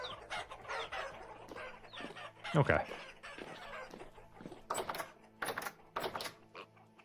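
Chickens clucking in a Vintage Story game world, short scattered clucks and calls near the player amid game sounds, with someone talking over them.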